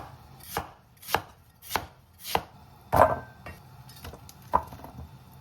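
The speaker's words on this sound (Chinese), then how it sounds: "把玉米跟白萝卜切一切哈" A knife chops corn and white radish on a cutting board for lamb rib soup, about seven sharp, evenly spaced thuds close by, with one heavier crunching cut in the middle and no talking.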